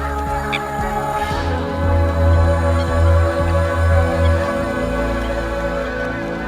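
A gathering of waterfowl, ducks among them, keeps up a steady chorus of honks and calls over constant rushing noise, dense and unbroken throughout.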